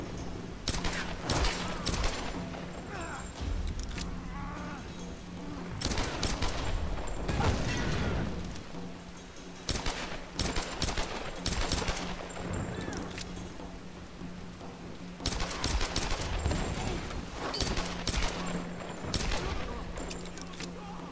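Gunshots ring out in a Lara Croft game as bursts of repeated fire rise from low background noise and fall away again. Several separate volleys are spaced across the stretch, with a heavier cluster near the middle.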